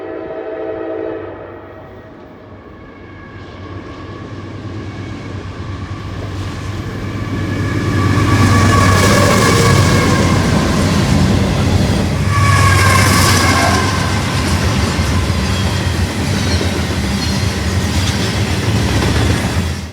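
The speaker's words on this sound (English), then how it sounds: "this eastbound train of entirely gondolas with an AC 44-liter and GEVO trailing had to come through" Eastbound freight train made up entirely of gondolas, led by AC4400 and GEVO locomotives, with horn blasts at the start and a loud, steady roar of passing cars building and holding throughout.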